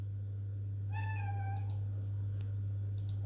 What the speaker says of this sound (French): Et le chat, bien entendu, qui vient de monter.